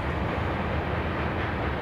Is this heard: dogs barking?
no